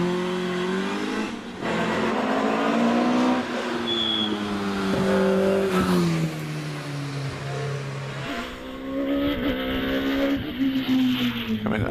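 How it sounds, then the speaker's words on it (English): A Westfield SCIW race car with a 2-litre engine climbs the Prescott club hill climb course, its engine note rising and falling through gear changes as it passes fairly close, with a commentator talking over it. "On the hill there we have him, 215 Martin Harvey, again a Westfield, this one an SCIW, again a 2-litre motor."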